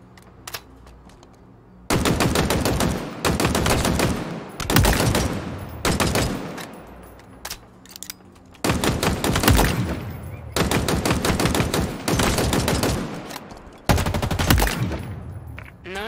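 Rapid automatic weapon fire at training targets in the Halo video game, loud repeated bursts of two to three seconds separated by short pauses of near silence.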